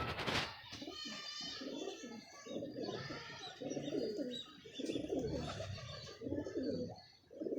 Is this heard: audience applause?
no